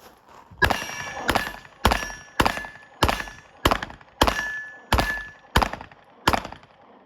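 Ten sharp handgun shots fired through a chain link fence at targets during outdoor police handgun training, each crack followed by a metallic fence ring, evenly spaced about two-thirds of a second apart, loud and close with no talking.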